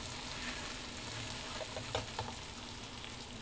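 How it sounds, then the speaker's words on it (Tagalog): Pork chop frying in a small amount of oil in a pan, giving a steady close sizzle with a few brief pops and spatters partway through, no voices. "Konting mantika lang talaga guys ang magpaluto sa ating pork chop."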